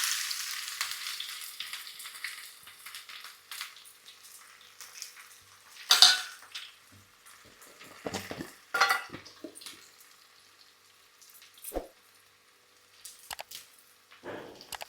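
Shallots hit hot oil with a broad hiss, then crackle and sizzle unevenly, with several sharp spits and pops standing out over the frying.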